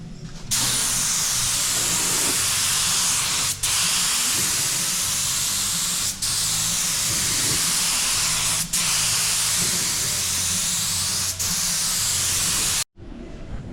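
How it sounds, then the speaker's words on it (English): Spray gun painting a lace pattern onto a Chevrolet Caprice roof: a loud continuous hiss of spraying held for long stretches, briefly interrupted at a few regular points, then cutting off near the end, with no talking. "Got it all sprayed up and it looks amazing."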